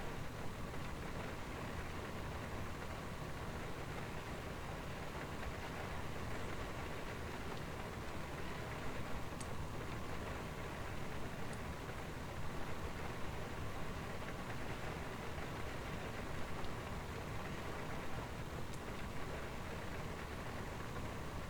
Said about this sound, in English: The rain sounds pretty cool.